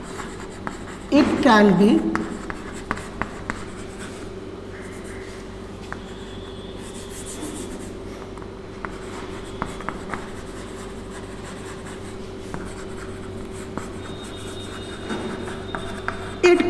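Marker or pen writing on a board during an economics lecture on demand functions, a short scratchy burst near the start, then a steady hum under a lecturer's voice.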